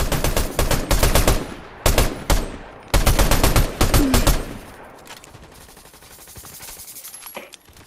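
Sharp, loud gunshots in Fortnite come in clustered bursts early on, then fade into quieter game ambience with a few faint distant shots.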